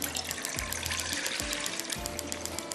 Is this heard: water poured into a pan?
yes